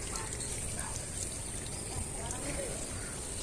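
Water flowing steadily from an automatic 24V AC valve fitting, a faint continuous rushing trickle that holds even for the whole stretch.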